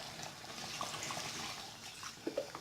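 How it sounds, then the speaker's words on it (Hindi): Water is poured into a pot of lamb trotter soup being cooked at home, a soft continuous splashing stream with small gurgles near the end, faint and close, with no talking. "तो अब हम इसमें पानी ऐड करने जा रहे हैं।"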